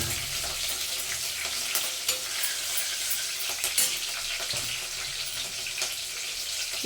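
Green chilies and curry leaves sizzle and crackle steadily in hot oil for egg rice, a dense continuous frying hiss with occasional sharper pops and stirring, no voices.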